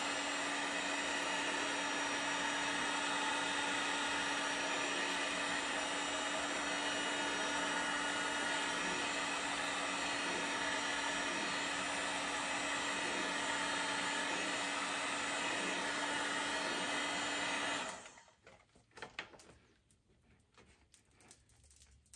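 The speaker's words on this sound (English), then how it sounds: "So you just take your heat gun" A heat gun blows steadily on the wrap of a 1970s Slingerland drum, a loud constant whirring fan hiss with a steady hum for most of the clip, then shutting off into faint handling clatter.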